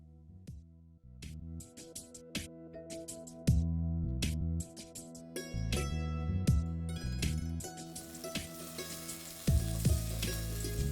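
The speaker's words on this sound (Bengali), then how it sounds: "ওই একই ফ্রাইং প্যানের মধ্যে আমি 2টো টমেটোকে এইভাবে কেটে একটু সেঁকে নেবো বা কুক করে নেবো" Two halved tomatoes cooking in a frying pan, a steady close sizzle and crackle with occasional spatters and stirring scrapes, building louder toward the end with no talking.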